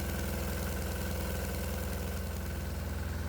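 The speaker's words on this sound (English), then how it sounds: "And immediately you can hear the little engine struggle." Small diesel engine labouring under a 70 amp alternator load from four resistors, with cooling fans running, at about 2500 RPM; a steady, dense drone with a low throb, loud and continuous throughout.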